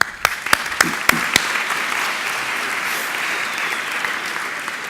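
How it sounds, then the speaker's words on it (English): Audience applause at a PyCon UK 2018 lightning talks session, a few sharp individual claps at the start swelling into a steady, sustained crowd clapping that fills the room without voices. "Quick round of applause for Martin, please."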